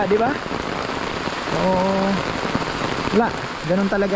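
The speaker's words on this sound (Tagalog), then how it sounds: "Lakas po ng ulan, grabe" Heavy rain drums hard and steadily on surfaces outdoors, a dense close roar that continues throughout while a person talks over it.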